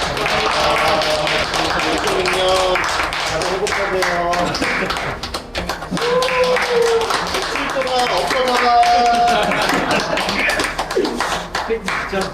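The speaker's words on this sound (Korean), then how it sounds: "축하 박수 한번 하겠습니다" Congratulatory clapping for an award among firefighters, sharp close handclaps in an uneven burst, mixed with chatter and laughter.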